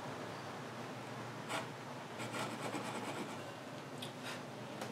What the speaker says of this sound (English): this is cross cut, so I'll use the small teeth on the Japanese style saw